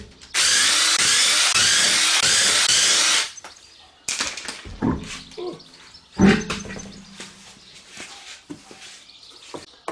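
Power tool, likely an impact gun, spinning off the rear wheel of a Hyundai Santa Fe raised on axle stands, giving one loud continuous burst of about three seconds followed by clanks and rattles of the wheel being handled.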